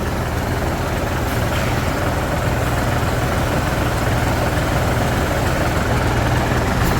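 A Thai-built rotary tiller tractor (Thai Charoen) idles with a steady, loud low engine rumble and broadband mechanical noise, continuous and unbroken throughout with no talking.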